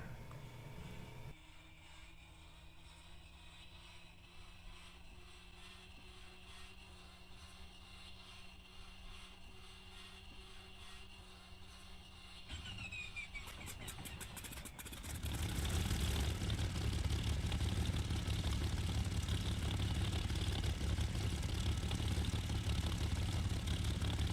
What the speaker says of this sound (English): So now we just press E, start the engine.